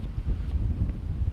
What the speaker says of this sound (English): It's been getting windier later on in the day.